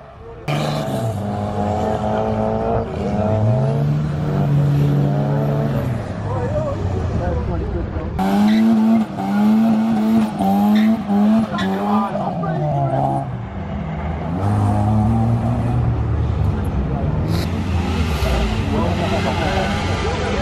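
A car drifts with engine revs rising and falling through sustained slides and tire squeal, while excited voices shout and cheer loudly throughout.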